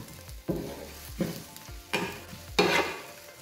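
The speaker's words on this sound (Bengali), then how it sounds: "এখানে আমি দিয়ে দিব 2 থেকে 3 টেবিল চামচ পরিমাণ সয়াবিন তেল, হাফ কাপ পরিমাণ পেঁয়াজ দিয়ে পেঁয়াজটাকে আর কি ব্রাউন করে নিব" Half a cup of onions browning in two to three tablespoons of soybean oil, close-up sizzling with four distinct stirring scrapes at a steady rhythm, each swelling louder, no voices.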